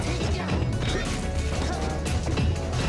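Forward smash attacks in Super Smash Bros (Project M) during a doubles match land as dense, loud impact crashes and thwacks over constant game noise, with no clear talk.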